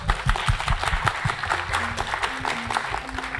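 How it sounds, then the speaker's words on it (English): An audience at a psychedelic science conference applauds steadily, a dense patter of clapping heard throughout at moderate loudness. "let's give him a round of applause"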